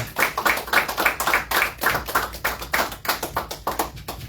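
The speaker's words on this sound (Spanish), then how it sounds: "Un aplauso al Señor" A church congregation applauding in praise, with a steady run of crisp, fairly evenly spaced claps at moderate loudness and no talk over them.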